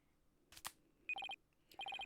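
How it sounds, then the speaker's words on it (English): A phone ringtone in the video game Ace Attorney Spirit of Justice, two quick bursts of bright electronic beeps after a soft click, close and clear with no talking. "Is that your ringtone?"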